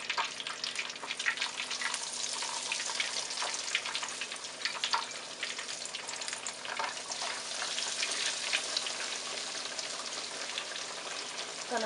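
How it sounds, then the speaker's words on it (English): Catfish frying in hot oil in a home kitchen, a steady close crackling sizzle with dense popping bursts that carries on unbroken, with no voices over it. "so now I'm going to add my catfish in"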